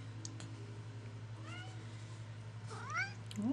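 A house cat meows several times near a baby being spoon-fed rice cereal, giving short rising and falling calls that grow louder toward the end over a steady low indoor hum.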